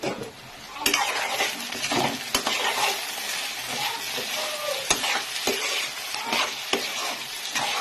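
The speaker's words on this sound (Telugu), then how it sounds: "మగ్గాక ఒకసారి మళ్ళీ కలుపుకుంటున్నాను." Drumstick curry stirred in a pan, a continuous sizzling bed broken by repeated scraping strokes and a few sharp clinks of a spoon against metal.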